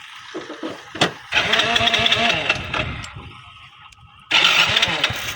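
A Kawasaki motorcycle starts up outdoors on a village road: a short crank, then the engine catches and revs loudly and close, settles briefly and revs again.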